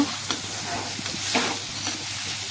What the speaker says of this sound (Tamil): அதை அப்படியே அதில் கொட்டி கிண்டி விடுங்க. நல்லா எண்ணெயிலே வதக்கி விடுங்க.